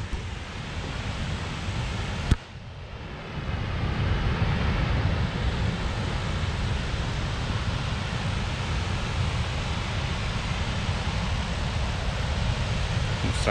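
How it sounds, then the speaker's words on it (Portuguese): A waterfall roars with a loud, steady broadband rush that fills the scene after a brief knock early on, with no talking over it. "Deixa eu lhe mostrar pra vocês a cachoeira."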